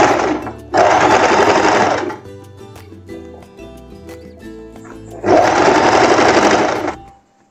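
Sewing machine stitching a seam on a short lace dress: two loud close bursts of fast, even motor whirring, split by a quieter pause of clicks and handling.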